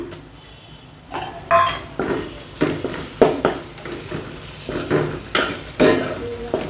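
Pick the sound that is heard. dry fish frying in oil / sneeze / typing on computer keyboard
dry fish frying in oil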